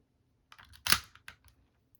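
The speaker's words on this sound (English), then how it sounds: "we are going to lock the slide to the rear" A handgun slide locked to the rear while field stripping, heard as one sharp metallic click-clack close by, with a few lighter handling clicks just before and after.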